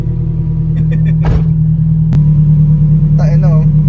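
A small-bodied black project car idles with a deep, steady engine rumble as it warms up, loud and close, while people talk briefly over it.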